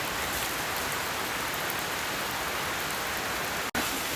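Steady rain falling, a dense even hiss of drops on surfaces that continues unbroken and fairly loud with a brief dropout near the end.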